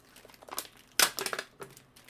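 Plastic bag crinkling as a Heroclix figure, the White Entity, is pulled out of its packaging, with light rustles building to a loud burst of crackling followed by several shorter crinkles, close to the microphone with no talk.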